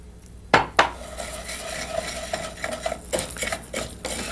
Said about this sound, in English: straight after our asafoetida goes in, we're going to pop in our rice